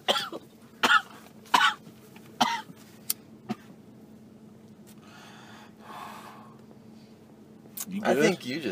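Several harsh coughs burst out in quick succession after a smoking hit, then a quieter stretch with rustling, followed by another rough coughing fit.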